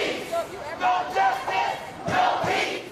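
A crowd of over a thousand protesters chants in rhythmic shouted bursts during a street march around MacArthur Park Station, the voices loud and massed, repeating in pulses.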